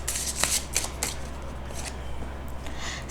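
A deck of tarot cards is shuffled close up, giving quick riffling bursts followed by softer sliding and a final snap.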